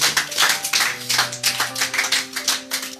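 Church congregation clapping together in steady rhythmic applause during worship, loud and close, with some musical tones sustained underneath and no speech.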